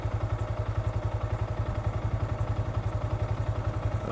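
Scooter engine running steadily during a U-turn on a riding lesson, a close, even pulsing putter at moderate speed with no talk.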